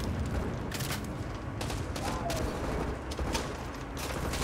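Vector submachine gun fire in Call of Duty Modern Warfare 2, dense rapid bursts of gunfire with sharp cracks and booms layered over a busy battle background, loud and continuous.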